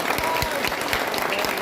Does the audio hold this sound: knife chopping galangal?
no